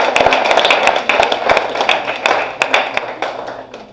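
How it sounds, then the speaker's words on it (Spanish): A church congregation applauds in praise, many hands clapping together in a loud, even patter that holds steady and then thins slightly toward the end, with no voices over it. "¿Por qué no le damos un fuerte aplauso a Él"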